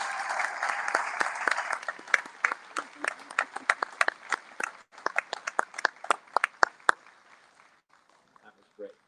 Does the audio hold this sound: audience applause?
yes